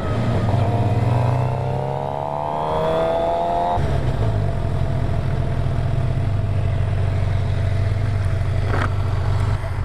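A 2018 Suzuki GSX-R 750 sport motorcycle revs hard at a bike night, its engine pitch climbing and shifting before settling into a loud, sustained roar, close and dominant throughout.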